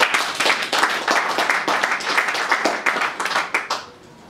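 A church congregation at a funeral service applauds and acclaims Jesus with dense, continuous clapping that fills the room for about four seconds, then fades out near the end.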